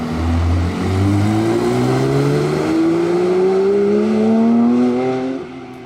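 A GT3 sports car drives past nearby, its engine note rising steadily as it accelerates, loud and smooth with a rising pitch before fading slightly at the end, with no talking.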